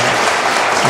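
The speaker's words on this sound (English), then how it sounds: "give a round of applause to our volunteers" Short burst of applause for volunteers at a debrief gathering, a dense steady wash of clapping from a group throughout the second.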